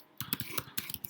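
Rapid keystrokes on a computer keyboard, about nine crisp close clicks in just over a second as an acknowledgement is typed, with no talking.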